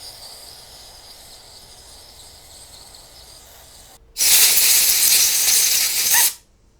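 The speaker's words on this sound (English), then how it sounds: "I'll hit inside here with some electrical cleaner, and I might put a little bit of dielectric grease in that as well." Electrical cleaner sprays from an aerosol can into a Suzuki DR650 motorcycle connector in one loud, sharp hiss lasting about two seconds, close by, after a stretch of faint background noise and with no talk.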